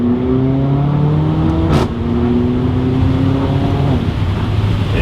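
A Mercedes CLA 45 AMG fitted with an iPE exhaust revs loudly up close, a dense droning engine roar with rising and falling tones and a sharp burst near the middle, continuous and alone.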